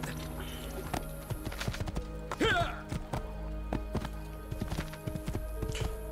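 Hooves pound in a steady, rapid galloping rhythm in Assassin's Creed II, with a brief horse whinny partway through, over a low background hum.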